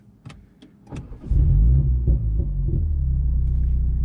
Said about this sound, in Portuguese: Quando você liga ele que o escape já está quente, você ainda ouve uns popzinhos assim